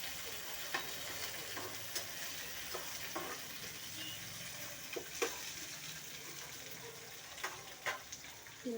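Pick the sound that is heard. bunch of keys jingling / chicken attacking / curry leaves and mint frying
curry leaves and mint frying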